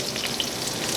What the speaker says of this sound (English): Here my salmon is cooking.